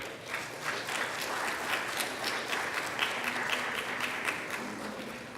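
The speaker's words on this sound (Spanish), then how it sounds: "agradecemos al expositor Gonzalo Ibáñez con un fuerte aplauso, por favor." Steady applause from an indoor audience at a talk on US food safety law, many hands clapping evenly for several seconds at moderate volume, with no voices standing out.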